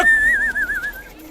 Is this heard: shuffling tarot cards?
no